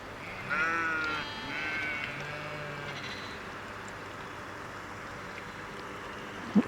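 Recently shorn sheep bleat on an open fell in a light breeze, a few wavering calls early on from fairly near, then quieter steady outdoor ambience.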